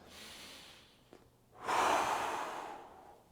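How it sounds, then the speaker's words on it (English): A person takes a deep breath in and lets it out during a stretching workout: a soft, brief intake followed by a longer, louder airy exhale, close to the mic with no talking. "big inhale, exhale"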